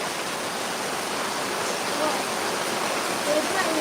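Heavy rain pouring steadily into a flooded yard, a dense continuous hiss of falling water that stays loud and even throughout, with no voices over it.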